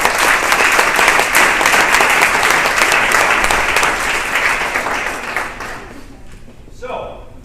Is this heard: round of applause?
yes